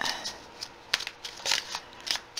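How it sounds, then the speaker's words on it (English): A deck of tarot cards is shuffled with quick, crisp riffling slaps at close range in an irregular rhythm, with soft speech faintly underneath. "shuffling for 9th through the 15th now for my wonderful Capricorns"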